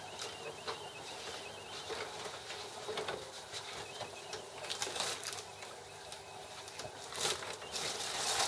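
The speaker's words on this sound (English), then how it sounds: "So I'll just let this print off" Canon IP7250 inkjet printer feeding and printing on edible wafer paper, making steady close mechanical whirring with clicks and the print head shuttling back and forth. The sound is fairly quiet, with no talk.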